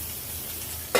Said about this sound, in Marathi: कमी आचेवर फ्राय करायची.